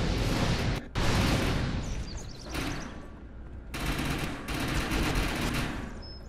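Rocket launcher in Defiance, firing unusually fast at the Freight Yard: loud, close bursts of explosive blasts rolling almost continuously, with one brief gap and another heavy barrage partway through.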